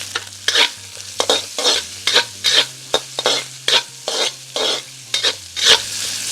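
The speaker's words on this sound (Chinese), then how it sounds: "把腊肉煸一下之后" Cured pork and chopped ginger are stir-fried in a wok, with a spatula scraping in quick, loud, rhythmic strokes, about two per second, over a soft sizzle and no voices.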